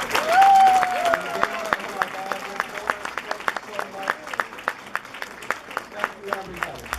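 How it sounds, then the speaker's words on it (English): Guests at an awards ceremony clap for two honourees. Individual claps ring out distinctly and fairly close, and a whistle and a voice rise briefly near the start. "please give a warm applause to Gail and James O'Hare"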